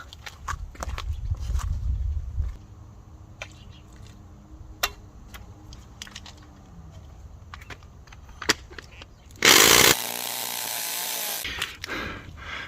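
A power drill bores into cement, with short rattles and clicks of handling before the tool roars loudly for about two seconds near the end, close by.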